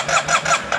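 Yamaha Tmax scooter engine, neglected and being revived, cranks over in brief rhythmic pulses, about four cranking surges within a second, close and moderately loud with no voices.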